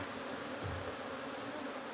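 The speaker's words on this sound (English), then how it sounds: "Wow, there's so many bees up in there." Bees in a wild beehive: a faint, dense, steady buzzing hum from many insects, continuous and without voices.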